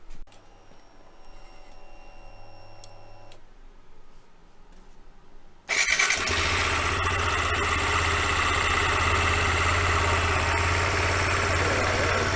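Kawasaki Z125 motorcycle engine idling quietly, then abruptly jumping to a loud, sustained high-rev roar partway through that holds steady to the end, with no talk.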